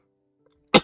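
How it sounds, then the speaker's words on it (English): A single short, loud sneeze bursts out near the end after a moment of near silence. "I need to sneeze"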